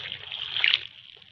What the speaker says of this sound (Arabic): راح نضيفوا كأس الماء عليهم